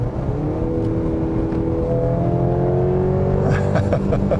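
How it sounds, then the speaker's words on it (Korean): Four-cylinder engine of a Mercedes-Benz GLC 300 4MATIC heard from inside under acceleration, a loud steady drone whose pitch climbs gradually and then rises more sharply near the end as revs increase. "좀 너무 4기통 티를 내는 것 같아서 조금 아쉽긴 하네요."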